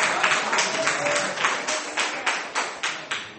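A church congregation applauds during a sermon on prayer, steady rhythmic clapping in unison, loud and close, with a few voices mixed in.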